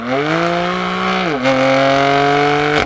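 A twin-turbo 3-liter inline-six engine in a 2020 BMW M4 Cabriolet drones loudly at a steady high pitch, briefly dips as if shifting, then climbs back to a sustained rev.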